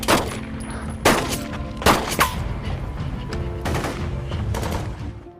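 Gunfire in a shootout from the 2021 zombie series S.O.Z. Soldier of Zombies: loud, sharp shots crack out at irregular intervals over a constant rumbling action background, with several shots in quick succession.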